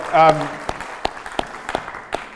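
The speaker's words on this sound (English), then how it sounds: "So congratulations, round of applause." A few scattered, separate claps ring out from an audience at a talk on developing players, following a brief voice at the start.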